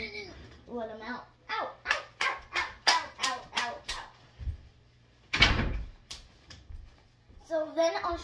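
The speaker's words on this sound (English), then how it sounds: "Dog's out!" A dog in a house barks about ten times in a quick, loud, close run, then falls quiet before a single heavy thump and a few further sounds, with people speaking over the end.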